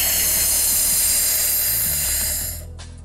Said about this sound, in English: Now we're just gonna cover and vent.